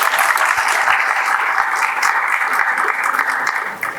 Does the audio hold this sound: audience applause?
yes